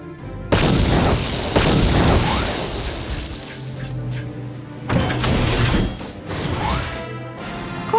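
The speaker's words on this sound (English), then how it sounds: "I shall detonate the explosives." Explosives detonating in the Star Wars: Knights of the Old Republic video game: a loud broadband boom bursts in near half a second and rumbles on, followed by a second heavy blast around five seconds, with mechanical crashing debris between.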